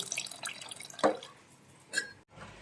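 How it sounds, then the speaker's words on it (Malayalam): Tamarind is squeezed and its juice poured into a village-style varutharacha curry, giving a series of wet drips and splashes, two of them louder splats, close by and without talk. "ഒരു നെല്ലിക്ക വലിപ്പത്തിലുള്ള പുളി പിഴിഞ്ഞ് ഇതിലോട്ട് ഒഴിക്കുന്നു"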